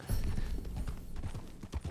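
Horse hooves clip-clopping in Red Dead Redemption 2, a quick, steady run of close, fairly loud hoof strikes, alone without talk.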